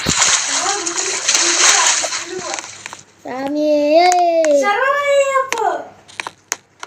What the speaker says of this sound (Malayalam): അയ്യപ്പന്റെ സ്ഥലത്ത് എത്തിയിട്ട് ആദ്യം കുളി കുളിച്ചു ഗൈസ്.